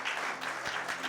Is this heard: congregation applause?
yes